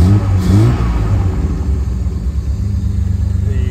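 A cold 1960 Austin-Healey 3000 Mk I BT7 with the choke partly out cranks into life and revs hard. The engine roars loud and close, with a deep, steady rumble.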